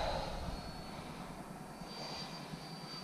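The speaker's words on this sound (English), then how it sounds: "You're making a low pass from the right." A Freewing F-22 Raptor RC jet makes a low pass from the right, a loud whooshing ducted-fan roar that starts strong and then holds as a steady rushing hum, with no voices.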